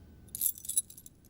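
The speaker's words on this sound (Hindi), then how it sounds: "ये रही रसोई घर की चाबियां।" Kitchen keys jingle briefly as they are handed over, two quick metallic rattles in a quiet room.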